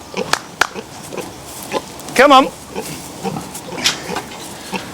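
Pigs grunt and squeal in short bursts close by, with one drawn-out squeal in the middle, while a person speaks briefly over them.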